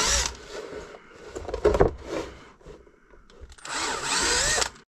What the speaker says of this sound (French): Je perce à 3